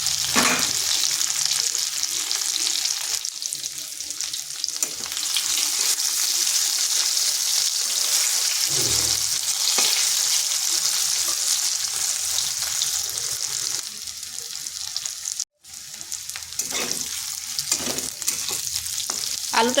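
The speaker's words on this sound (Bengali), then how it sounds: "আলুটা একটু ভাজা ভাজা করে নিচ্ছি" Potatoes sizzle steadily while frying in a pan for a cabbage dish, with scraping stirs at intervals and one brief dropout near the end; no talking.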